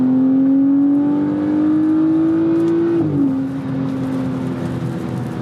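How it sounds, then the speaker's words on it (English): BMW F-series car accelerating hard from 0 to 60 mph after a slight tire spin, a loud close engine drone rising steadily in pitch, then dropping sharply at a gear shift and climbing again. "Here's our first 0 to 60 with the P3. Let's see what she does."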